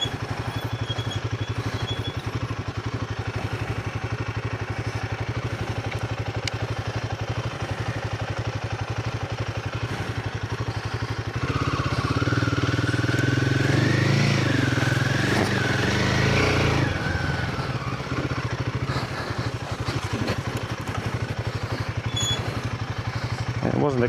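A smaller motorcycle rides by, its engine rising from a distant drone to a loud, close mid-range roar, then fading away, with outdoor background noise throughout.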